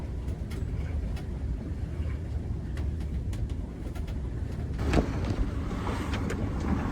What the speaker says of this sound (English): The waves are coming over in through the window